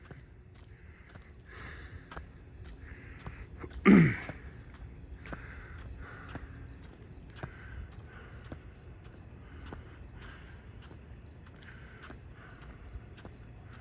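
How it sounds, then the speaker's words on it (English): A steady, faint cicada buzz hums throughout in a quiet outdoor setting, with soft ticking and one brief louder thud. "Mark, those are not crickets, those are cicadas."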